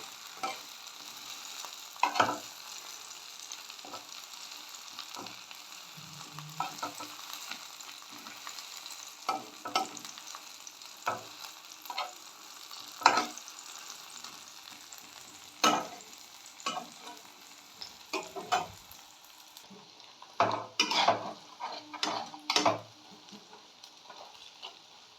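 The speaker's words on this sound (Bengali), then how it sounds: "কড়াইটার মধ্যে অল্প যে তেলটা আসবে সেটার মধ্যে আমি ডিমটাকে ভেজে নেব।" An egg fries in a little oil pushed to one side of a wok while egg chowmein is cooked. The sizzle is gentle and steady, broken by intermittent stirring scrapes and clatters that grow busier toward the end, with no talk.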